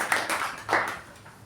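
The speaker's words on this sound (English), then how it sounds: "Give him a big round of applause" Brief clapping at a Toastmasters club meeting, a handful of close, distinct claps in an uneven rhythm that taper off quickly, suggesting a small group rather than a large crowd.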